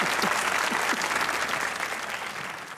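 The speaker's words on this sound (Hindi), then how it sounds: "तालियां होनी चाहिए राज भाई" A studio audience at a Pakistani comedy talk show bursts into steady, dense applause, loud and close, with many hands clapping continuously throughout.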